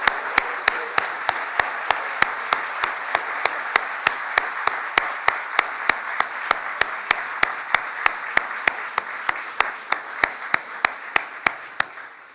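Applause fills the room at a political event marking the Inflation Reduction Act anniversary, a steady crowd clapping beneath a sharp, regular series of evenly spaced clicks.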